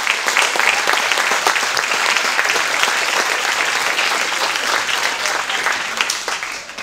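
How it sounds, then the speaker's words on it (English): Sunday gathering audience gives volunteers a big round of applause: dense, loud, continuous clapping from many hands, sustained evenly throughout with a slight fade at the close. "So give all these volunteers a big round of applause."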